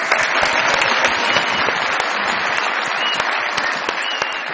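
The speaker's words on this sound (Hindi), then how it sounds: "बहुत सारी तालियां तारिक महमूद साहब के लिए" Studio audience at a Pakistani comedy show bursting into sustained applause, dense rapid clapping that stays loud and even throughout with no voices on top.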